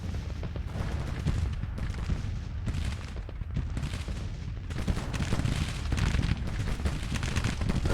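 Dense, continuous volleys of musket and artillery fire roll from a Civil War battle in the strategy game Grand Tactician: The Civil War, loud booms and crackling shots overlapping with no pauses and no voices.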